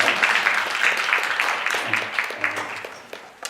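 Applause from a church congregation at a Monday joint prayer meeting, a steady patter of many hands clapping at moderate volume that fades toward the end, with faint low murmurs underneath.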